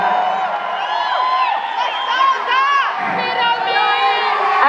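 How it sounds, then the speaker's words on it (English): A huge concert crowd at a show in Brooklyn screams and cheers continuously, loud and dense throughout with high shrieks and whoops layered over a roaring mass of voices. "I can't hear you, you're screaming too loud."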